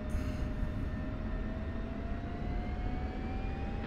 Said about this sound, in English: Viper 1-1 spooling up.